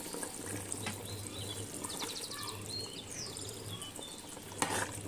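Hyderabadi pasanda curry being stirred in a pot, yogurt-based gravy that has released a lot of water, with soft wet scraping and gentle bubbling over a steady low kitchen hum.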